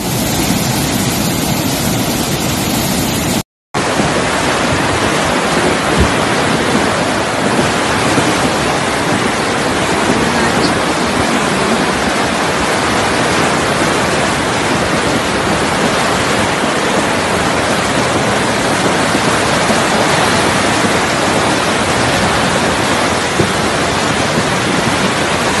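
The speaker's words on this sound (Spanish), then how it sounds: "La cascada ahorita, así está la cascada, crecidito la cascada." Swollen waterfall after a flood near Echeandía, Bolívar, a loud, dense roar of rushing water that fills the scene steadily and close, broken only by a brief cut near the start.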